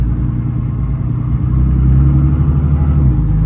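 A Toyota Supra driving in comfort mode during transmission break-in, a steady low engine drone heard from inside, rising slightly in load midway and holding smooth without sharp revs.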